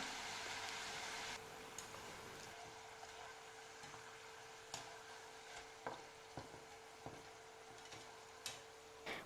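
Butter murukku frying in hot oil: a steady bright sizzle that fades after the first moments into a quieter bubbling hiss, dotted with small sharp ticks and pops at irregular intervals, close and alone.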